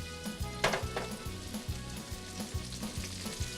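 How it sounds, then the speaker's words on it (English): Large onions sizzle steadily in a pan with red pepper flakes and fennel seed, a continuous close frying hiss with a low rhythmic pulsing underneath and a couple of sharper crackles, no voices. "And I'm going to add 2 really big, large onions to the pan."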